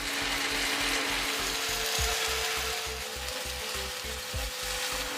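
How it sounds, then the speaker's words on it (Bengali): Ginger, garlic and onion paste frying among softened tomatoes for an egg curry, a steady close sizzle and hiss with faint stirring scrapes throughout. "এবার ওই বেটে রাখা আদা রসুন আর পেঁয়াজটা দিয়ে দেবো।"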